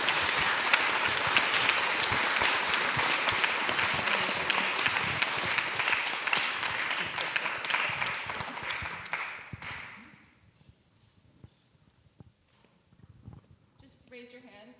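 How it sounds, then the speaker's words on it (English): Audience applause for the panelists at a panel discussion rolls steadily for about ten seconds, then fades out into a quiet room where a few faint sounds follow. "let's give our panelists a round of applause"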